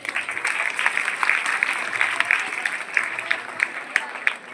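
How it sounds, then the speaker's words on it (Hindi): Applause for students at a school cultural competition at a government senior secondary school in Karsola: a group of children clapping in a brisk, uneven patter, with voices murmuring underneath throughout. "इनके लिए जोरदार तालियां बेटा।"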